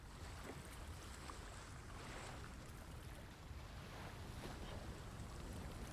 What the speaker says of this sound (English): Oh, I can hear the ocean from here.